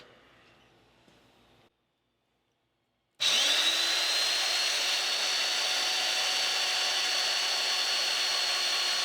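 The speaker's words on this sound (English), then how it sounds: "I'll be cutting a 5/8 hole for this other side." Power drill boring a 5/8 inch hole through steel plate with cutting oil, for a Wagoneer transfer case mount; quiet background first, then a brief silence before a loud, steady drilling whine starts and runs continuously to the end.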